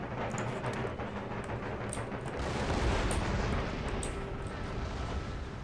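Dense, continuous barrage of musket volleys and artillery fire from a battle in Empire Total War, with a steady rumbling roar and scattered sharp cracks throughout, no voices.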